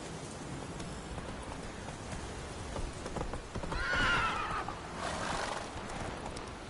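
A horse in The Witcher 3 neighs loudly in the middle while its hooves clip-clop steadily underneath, with rain pattering softly throughout.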